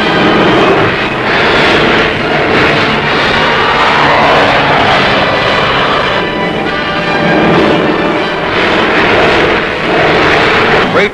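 Propeller transport aircraft of the Berlin airlift drone loudly and steadily overhead, a continuous dense engine roar with gentle swells and no voices.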